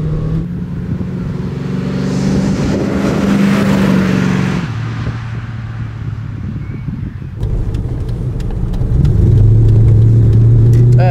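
A 1969 Maserati Ghibli 4.7 engine roars and revs loudly, rising and falling with gear changes, steady throughout with no talking.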